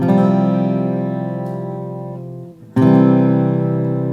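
Two ringing strummed acoustic guitar chords played through a new pickup, each left to sustain and slowly fade, full and close with a warm amplified tone filling a large hall.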